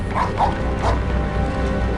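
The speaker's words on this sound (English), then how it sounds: "That sounded like a dog." A few faint, muffled dog barks in the Harry Potter and the Prisoner of Azkaban video game, set against a steady low ambient hum.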